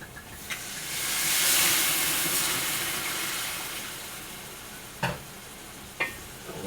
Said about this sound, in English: we're going to deglaze with the Pasta Red Reserve wine